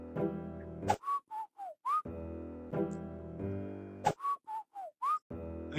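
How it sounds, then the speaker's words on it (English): Short whistled phrases of four or five rising and falling notes in a video game, repeated in a pattern, alternating with a sustained buzzy musical tone. "Just keep whistling."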